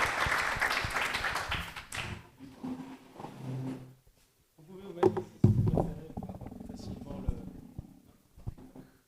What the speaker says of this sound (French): on vous applaudit 1000 fois